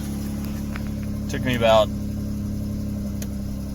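A flood-damaged Dodge Challenger engine idles steadily with a check engine light on, a low even rumble under a voice.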